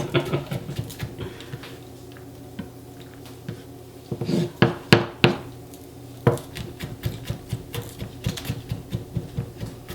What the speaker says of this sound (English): let's see the rock chop